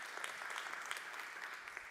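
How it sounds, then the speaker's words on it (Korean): Congregation clapping during a Sunday Easter worship service in a church, a steady, fairly quiet wash of applause with no talk over it. "한번 박수 한번 주시기 바랍니다."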